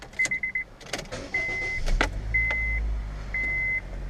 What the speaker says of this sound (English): Car starts up nicely.